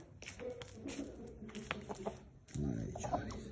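Young fighting rooster clucking close by in short irregular bursts, with other fowl and background farm noise, and someone talking over it.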